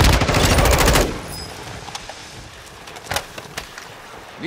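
Rapid automatic gunfire from the Vondel Lockdown Quads video game fills the first second as a loud, dense burst. It is followed by scattered fainter single shots and impacts.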